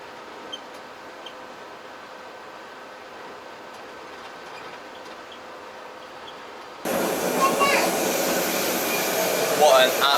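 A low, steady hum inside a moving train car in Slovenia, then a louder rush of wheel and track noise kicks in abruptly partway through.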